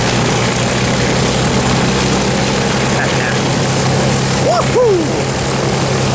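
After landing, a propeller airplane hums steadily with a low droning engine tone, near and fairly loud, while brief voices and whistle-like sounds break in toward the end.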